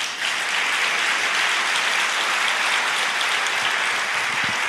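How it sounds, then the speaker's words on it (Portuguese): A church congregation applauds with steady, dense clapping that stays even and full for the whole stretch, with no talking. "Você pode aplaudir o Senhor."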